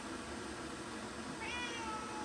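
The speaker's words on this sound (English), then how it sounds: "This is my cat. Her name is Ninja." A pet cat named Ninja gives a single short, faint meow near the end, over steady background hiss.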